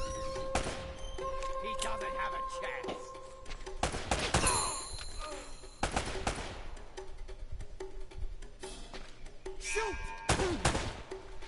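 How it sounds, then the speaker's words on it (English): Bursts of gunfire ring out in the video game Uncharted: Drake's Fortune, sharp shots and short rapid volleys scattered through a busy game soundscape, with a voice talking over the action. "Sometimes it's kind of hard to tell where the bullets are coming from."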